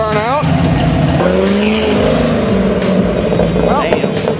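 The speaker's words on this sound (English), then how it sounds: "Attempted a burnout." A car attempting a burnout at a car cruise, its engine roaring loud and near with rising tire squeals through the run, amid crowd noise and voices nearby.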